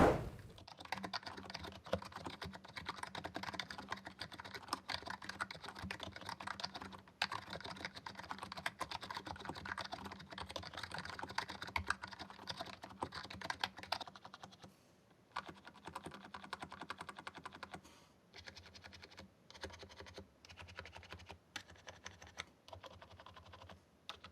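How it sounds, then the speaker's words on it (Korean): Rapid, continuous typing on a ROCCAT Magma Mini 60% membrane keyboard, dense clattering keystrokes close up, briefly pausing and thinning out toward the end. "자, 타건음 살펴보도록 하겠습니다"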